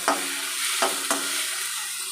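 Chopped onions and tomatoes frying in a pan, a continuous close sizzle broken by a few distinct scraping stirs of a spoon.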